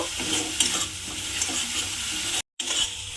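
Sugar is stirred into a sizzling spice paste in a pan for kumror jhal, a pumpkin curry, with a steady scraping stir over continuous frying hiss, close up, broken by a brief dropout near the end.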